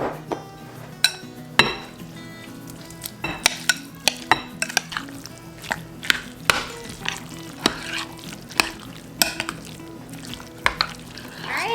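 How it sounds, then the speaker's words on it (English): A metal potato masher presses chopped hard-boiled eggs in a bowl, giving sharp intermittent clinks and soft squishing thuds at an irregular pace, close by. "I even like to use a potato masher a little bit to mash up the egg yolks themselves"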